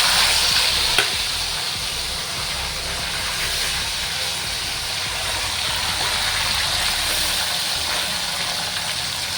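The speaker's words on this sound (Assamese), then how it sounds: "এতিয়া এই মাছটো ফ্ৰাই কৰিম" Small pieces of fish fry in oil in a wok, producing a loud, dense, unbroken sizzle that holds steady throughout.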